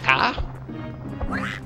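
Cartoonish duck quacks from a quacking attack in the video game Dark Cloud, a short burst at the start and another near the end, heard over game background sound.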